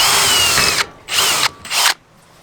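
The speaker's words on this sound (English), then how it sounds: "you're gonna start with drilling a pilot hole." A power drill bores a pilot hole into a boat garage frame, three loud close bursts of whining drilling, the first long and the next two shorter, separated by brief pauses.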